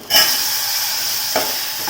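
Two spoonfuls of red chilli powder hitting overheated oil in a pan give a steady, close hissing sizzle that holds for about two seconds, with a faint stir or clink partway through and no talk.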